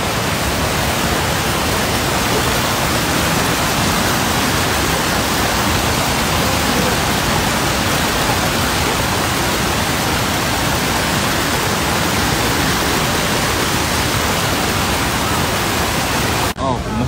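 A waterfall at a scenic tourist area, a loud, unbroken roar of rushing water filling the whole stretch with no pauses, and any voices are buried beneath it.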